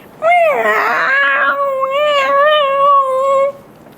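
Children's voices imitate a playful kitten with a long, wavering, sing-song mewing cry that rises and falls for about three seconds, loud and close.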